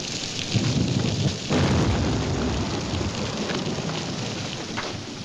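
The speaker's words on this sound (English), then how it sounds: "Can't see nothing in this rain." Heavy rain pours steadily in a western film scene, a dense close hiss throughout, with a low rolling thunder rumble swelling early on.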